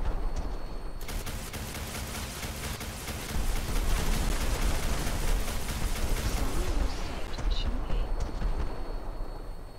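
Rapid, dense minigun fire from a Vertibird in Fallout 4, a loud continuous barrage that swells louder midway and runs without pause, with no voices.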